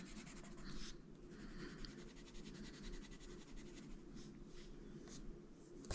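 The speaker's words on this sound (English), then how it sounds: "And I will just be coloring some of this." A colored pencil from a Black Widow set moves over paper in quiet, close strokes, a soft continuous scratching with faint rhythmic swishes and no talk.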